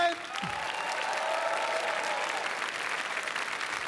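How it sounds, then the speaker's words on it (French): A crowd on the red carpet steps at the Cannes film festival applauds a film director, a steady wash of clapping with faint voices and a brief sound near the start. "Je voudrais qu'on applaudisse très fort le metteur en scène Jean-François Richet."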